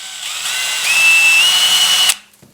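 A power drill whirs steadily at close range for about two seconds, its pitch rising slightly as it spins up during work on a homemade knife, then cuts off abruptly, leaving near silence.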